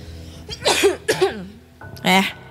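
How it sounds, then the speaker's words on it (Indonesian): Three harsh coughs up close, loud and separated by short pauses, the last one strongest. "Seperti biasa, batuk."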